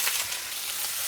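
Razor clams frying in a hot pan with garlic give a dense, continuous sizzle, loud and close, with no voices.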